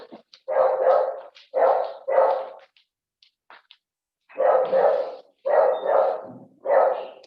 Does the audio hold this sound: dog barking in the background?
yes